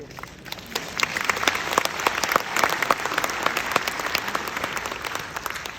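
Sustained applause from a large audience at a Christian business conference in a convention hall, dense steady clapping filling the whole stretch without a break.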